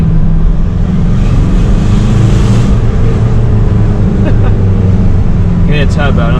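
A Mitsubishi L200 pickup truck's engine and exhaust rumble loudly up close with a low, steady drone, along with a turbo whoosh that swells partway through; a brief voice is heard near the end.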